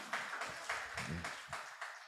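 A congregation applauding during an Easter church service, a steady wash of many hands clapping in a rhythmic pulse, moderately distant, with a voice briefly heard underneath.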